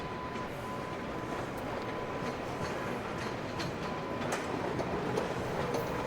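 A GO train runs past at steady close range outside a Toronto ballpark on game day, a continuous broadband rumble with faint rail clatter and occasional sharp wheel ticks, no one talking over it.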